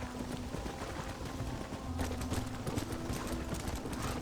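Horse hooves gallop in Red Dead Redemption, a steady rapid clip-clop rhythm under game ambience that grows louder and busier midway through.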